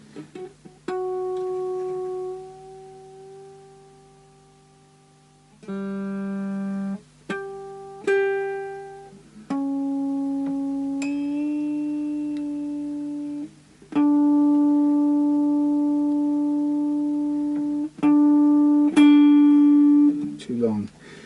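Single plucked notes on a BC Rich Warlock electric guitar ring out and sustain one at a time, some bending slightly in pitch, clear and close with long decays between plucks.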